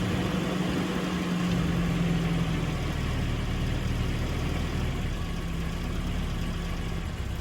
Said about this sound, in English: Give the throttle about a couple pumps there. Fire right up. After a few seconds of maintaining a little bit of throttle, it will idle just fine.